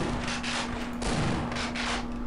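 Rapid bursts of gunfire in Half-Life crackle in several close, loud volleys across the moment, with a steady electronic hum running underneath and no talking.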